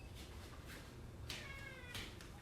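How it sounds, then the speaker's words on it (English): A house cat meowing in a home kitchen in Austin, Texas: a few short, soft meows spaced across a couple of seconds, faint over low room noise. "The cats are hanging out with us."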